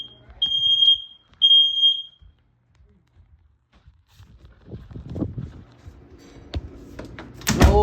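Smoke alarm blaring in two loud, shrill beeps near the start, then falling silent, followed by footsteps, shuffling and a door or sliding movement with a sharp knock at the end.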